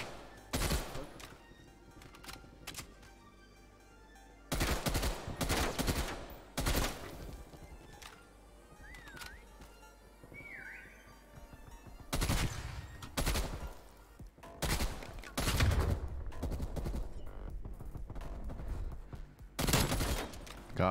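Burst-fire gunfire from a match of Call of Duty Cold War, with several loud clustered bursts separated by quieter stretches and faint distant game sounds in between.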